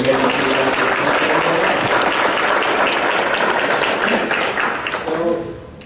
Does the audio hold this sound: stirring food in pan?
no